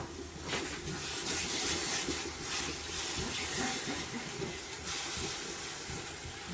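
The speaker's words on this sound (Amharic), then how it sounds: "ከቲማቲሙ ጋር ደግሞ አብረን እናቁላላለን።" Tomatoes sizzling as they fry in a pan for a mushroom pasta sauce, a steady close hiss and crackle that runs evenly throughout, fairly quiet, with no talking.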